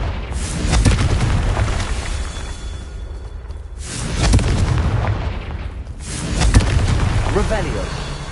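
Confringo explosion spell cast in the Hogwarts Legacy video game: three heavy booming blasts with whooshing tails, loud and close, spaced a few seconds apart over game sound.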